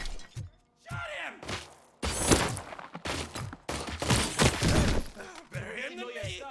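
Video game shootout gunfire crackles in bursts of rapid shots and heavy impacts, mixed with shouted voices and grunts between volleys, loud and close throughout.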